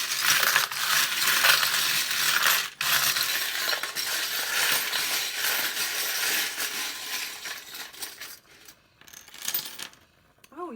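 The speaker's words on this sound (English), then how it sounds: "I will put the cards to the side and I will draw some charms." Small metal charms clink and rattle continuously as they are drawn and dropped for a tarot reading, a dense jingling that fades near the end, where a voice briefly speaks.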